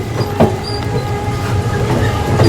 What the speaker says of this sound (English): we gotta come ride the tram